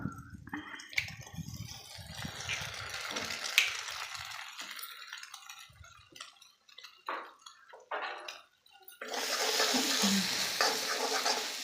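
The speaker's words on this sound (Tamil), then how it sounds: "நல்லா வறுத்துக்கலாம்" Green banana and egg fry in a pan with intermittent stirring clatter and soft sizzling, quieter and patchy at first, then swelling into a steady, louder hiss of frying toward the end.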